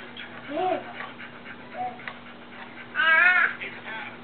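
A dog gives a few short, yelping barks and whines, with a louder burst near the end, heard over a quiet background with a low steady hum.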